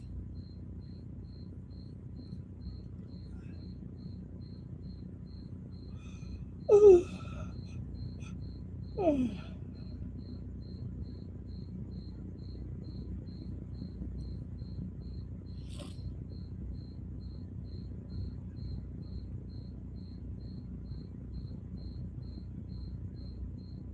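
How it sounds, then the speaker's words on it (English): A cricket chirps in a steady, continuous high trill through the whole stretch, close and fairly loud, with a couple of brief louder knocks or scrapes partway through and no talking. "That cricket is loud."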